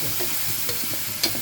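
Shrimp tip into a frying pan of pancit bato, sending up a steady sizzle with quiet stirring scrapes and one sharper hiss burst near the end.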